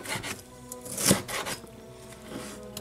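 A kitchen knife slices a bell pepper into strips on a cutting board, giving soft rasping cuts with one sharper chop near the middle and light board knocks, close and quiet, with no talk.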